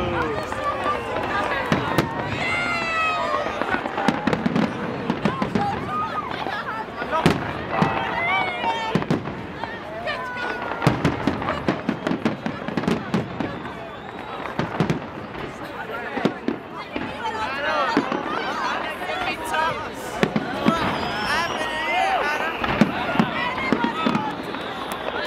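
Edinburgh Hogmanay New Year fireworks display in 2013 pops and crackles continuously, a dense, unbroken barrage of bangs and rapid crackles heard from the crowd, with people chattering and calling out throughout.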